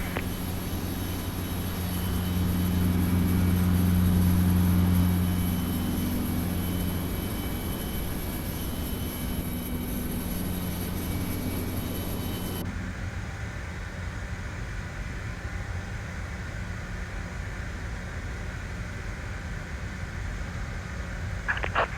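A CRJ-900 jet sits at pushback in a flight simulator at LaGuardia, its engine and cabin hum a steady broadband drone with a low tonal rumble that swells early, then drops to a quieter, thinner hiss partway through.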